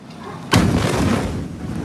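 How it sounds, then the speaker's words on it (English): The massive ammonium nitrate explosion at the Beirut port hits as one sudden loud boom, heard from a distance across the city, followed by a sustained roaring rumble. "This was the moment an explosion ripped through the city's port and devastated neighbourhoods for miles around."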